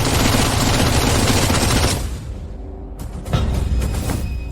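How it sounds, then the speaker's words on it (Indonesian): Heavy gunfire rattles loudly in a dense burst. It cuts off into a brief lull, then a few more sharp shots ring out, with no talking heard. "Tembak. Jadikan dia saringan."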